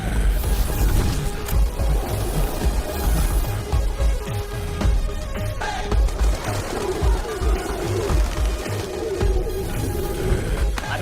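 Pigeons coo in a film scene, with throaty bird calls woven into a dense, loud soundtrack of rumbling effects and music that stays busy throughout.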